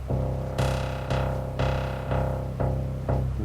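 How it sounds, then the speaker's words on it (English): Modular synthesizer notes from an envelope generator shaping a filter sound as a repeating series of spiky plucked tones, about two per second, alternating brighter and mellower, played alone. "envelope generator that's creating that little spiky plucked sound, and that sound is controlling the shape of a filter."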